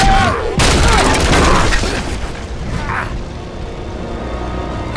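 A loud gunshot burst in Uncharted 3 during a tense climbing scene, a sharp close blast followed by rumbling action noise and shouted dialogue.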